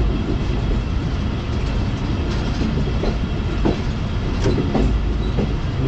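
A train rushes past at speed close by, a loud, unbroken rumble of wheels and carriages with rhythmic clickety-clack beats over the rail joints and no voices.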